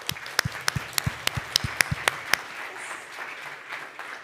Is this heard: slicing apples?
no